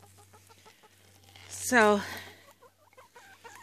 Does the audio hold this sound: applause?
no